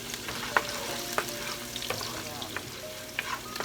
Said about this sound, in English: The onions are getting just a little bit too cooked.